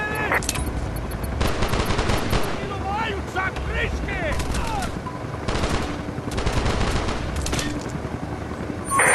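Rapid bursts of automatic gunfire from the Android shooter Call of Duty: Strike Team, loud and close, with brief gaps and whistling electronic tones between volleys.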